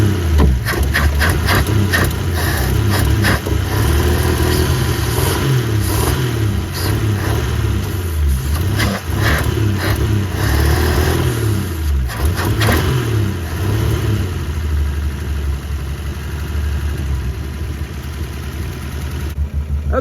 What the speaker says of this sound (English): Listen to it sitting there idling.